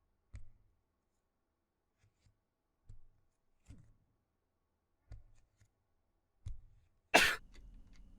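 Several soft, short coughs and throat clears come at irregular intervals in a quiet room, ending with a sharper, louder burst and a low lingering rumble.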